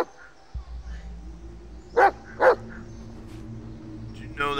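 Two sharp dog barks from a companion dog in the Blair Witch video game, loud and close, set over a low ambient game drone with a brief rustle at the end.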